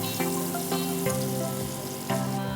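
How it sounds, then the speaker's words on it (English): Salted shrimp frying in a pan with butter and garlic, giving a steady loud sizzle broken by a few sharp clinks and stirs, and no talking. "Pan fry butter and garlic. Put in salted shrimp."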